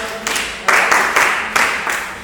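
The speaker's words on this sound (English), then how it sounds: "Please, let's clap for her." Audience at a girls' empowerment close-out ceremony claps for a girl, a short burst of applause in uneven waves that swells and fades, with some voices mixed in.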